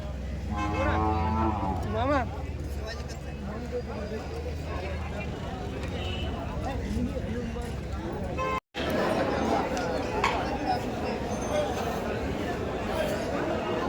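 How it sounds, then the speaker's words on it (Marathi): Buffaloes moo amid a busy livestock market in Chalisgaon, their low calls rising over a steady murmur of crowd chatter and voices. "इथं सोनू गवडी पप्पू गवडी मयूर गवडी यांचं तुम्हाला इथं म्हशी पाहायला भेटतील"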